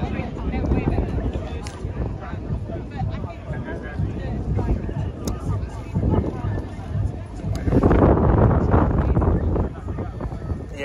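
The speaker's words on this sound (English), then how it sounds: "It's a bit windy," Gusty wind buffets the microphone with low rumbling throughout at an outdoor beer festival, swelling louder near the end, while a person talks underneath.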